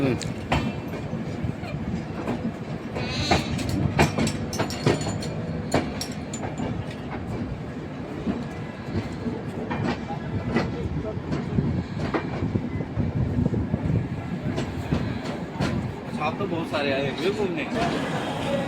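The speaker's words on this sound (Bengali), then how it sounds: "তো আমাদের ট্রেন কিন্তু ঢুকে পড়েছে" Howrah Amritsar Mail train pulling into Ambala station, with steady rumbling, rattling carriages and clicking wheel noise throughout, and people talking nearby over the continuous din.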